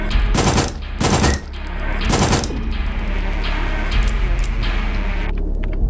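A submachine gun fires in the video game SIGNALIS in several rapid bursts that blur into sustained loud automatic fire, close and dense, with no talking.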